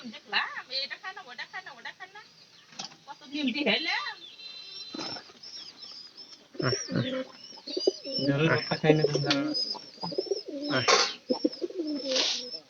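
A pigeon gives soft repeated coos close by, interleaved with a person talking intermittently over the bird's calls.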